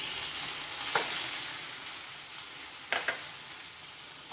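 Chopped tomatoes fry with onions in a pan for masala pasta, giving a steady even sizzle with a couple of brief stirring scrapes, close and without speech.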